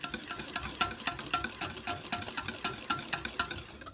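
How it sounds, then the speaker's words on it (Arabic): Chocolate bavarois cream being stirred after gelatin is added, a steady run of light scraping and tapping strokes against the bowl, close and fairly soft, about two to three per second, with no voices. "نجيب نضيف لا جيلاتين ونستمر في التحريك."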